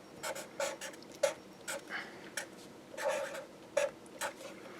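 Chalk or marker writing an equation on a board during a lecture, a faint series of short scratchy strokes and taps, close and sparse, with no talking.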